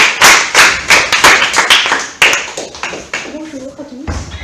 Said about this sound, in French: Veuillez l'applaudir.